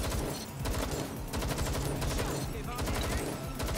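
Continuous gunfire in the video game Watch Dogs London, dense overlapping shots forming a loud, sustained fusillade with a low rumble beneath and some voice-like activity mixed in.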